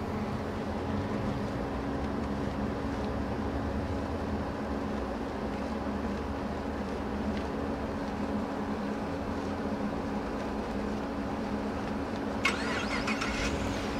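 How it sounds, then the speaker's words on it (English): A 2014 Holden Commodore SSV Redline engine, started by remote, runs at a smooth, constant idle with a low steady hum and a single faint click toward the end, with no one speaking. "car starts up for us"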